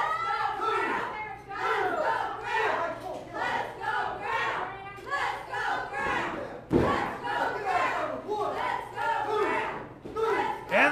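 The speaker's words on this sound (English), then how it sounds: "And the crowd chanting for Graham Bell, trying to force him on" Crowd at an IZW independent wrestling event chanting in rhythmic waves for a wrestler, dense and sustained across the whole stretch, with a sharp thud partway through.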